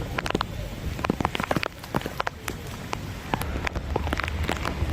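Heavy rain during a train journey from Porbandar to Bhavnagar, falling in a dense, steady patter of sharp drops striking nearby surfaces. No one speaks over it.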